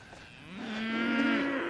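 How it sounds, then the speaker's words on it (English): A Mini Hereford cow lets out a single long, loud moo close by, rising and holding steady, with no one talking. "Mooing at me like crazy."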